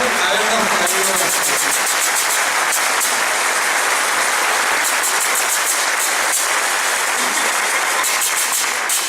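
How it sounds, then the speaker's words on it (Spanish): Applause from a church gathering audience, a dense steady wash of clapping that fills the whole stretch at even loudness, with some voices mixed in beneath it. "démosle un aplauso a nuestro Señor por habernos traído"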